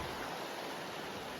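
The Clearwater River, shrunk to the size of a creek, rushes steadily in a continuous, even wash of flowing water with no other sounds.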